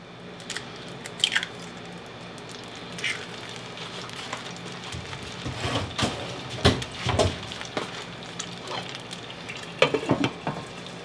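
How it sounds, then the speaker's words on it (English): An egg frying in a pan gives a steady close sizzle and crackle, with scattered louder pops and stirring scrapes over the hiss. "I'm frying an egg."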